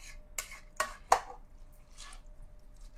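Coconut milk and glutinous rice stirred with salt in a pot give three or four soft wet scrapes and clinks of a spoon against the metal, spaced about every half second, then a fainter swish, with no talking.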